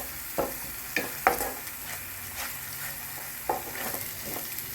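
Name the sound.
ginger garlic paste frying in pan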